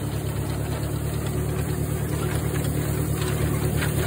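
Tractor engine running steadily with the PTO engaged while cutting second-cutting hay, a continuous close mechanical drone and whine with no talking.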